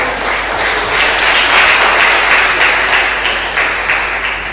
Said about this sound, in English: A round of applause for all professionals across the globe.